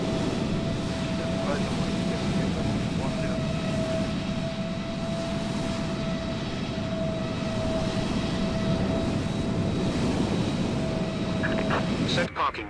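A Boeing 787-10 jet engine in Microsoft Flight Simulator 2020 runs as a steady, even roar with a thin constant whine on top, continuing unchanged before a brief clatter at the very end.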